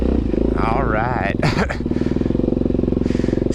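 Suzuki DRZ400 dirt bike idling in first gear on a muddy trail: a close, steady low engine thrum with a regular pulsing rhythm, while someone talks over it throughout.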